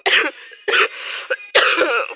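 Three harsh coughs in a row, close and loud, separated by short pauses, with a faint throaty catch between the second and third.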